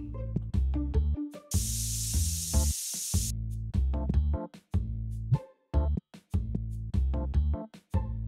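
A spray can in the video game TCG Card Shop Simulator gives one bright hiss lasting under two seconds, heard over looping game music with deep bass notes.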